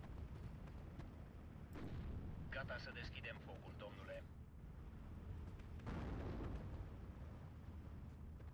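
Mortar fire in the wartime strategy game Steel Division 2, faint low booming impacts under a busy battle soundscape with a brief ringing tone in the middle.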